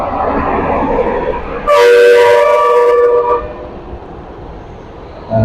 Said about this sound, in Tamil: பஸ் வருது.